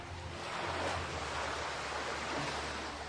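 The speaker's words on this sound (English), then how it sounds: "All that could be heard was the sound of lapping water." Water laps gently and continuously against boats on a calm shore, a soft steady wash with no voices and no other sounds.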